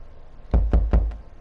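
Knocking from beneath a trap door in The Letter video game: four dull, close thumps in quick succession, spaced evenly, standing alone.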